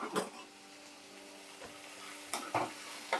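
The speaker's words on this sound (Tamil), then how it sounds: "லைட்டாக இப்படி கிளறி விட்டுட்டு" Intermittent scraping and stirring in a pan after adding salt and turmeric, a few brief bursts over a quiet background hum, with no talking.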